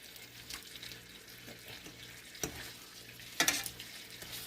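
Pork chops brown in a hot pan as they are flipped, with a soft continuous sizzle broken by a few sharper clatters and spatters near the end.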